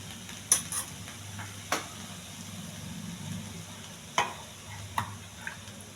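A spatula scrapes and taps in a pan while cabbage fry is stirred, with a few sharp clinks standing out over a low steady sizzle.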